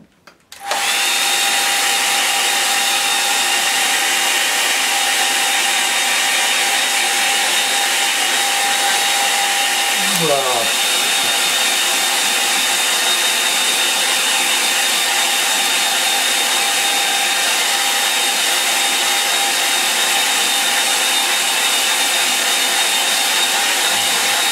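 A hair dryer blows steadily on a painting of mountains and a lake, a loud continuous whine and rush that runs almost unbroken from start to finish.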